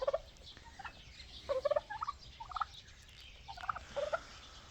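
A black chicken among backyard poultry in winter, giving short bursts of clucking calls in irregular clusters, fairly faint against a quiet outdoor background.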